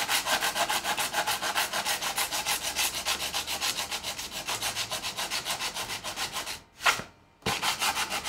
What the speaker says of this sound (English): To get that off, what I could do is just go ahead and sand it off.